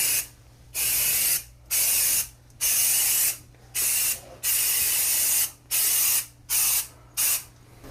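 Bed bug spray hisses from a pump bottle around a mattress in about ten sharp, close bursts of a second or less, each followed by a brief gap, with no voices.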